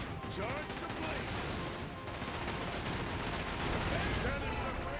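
Ship cannons boom in a pirate naval battle in the video game Like a Dragon: Pirate Yakuza, a dense barrage of overlapping blasts and crashes with game voices mixed in throughout.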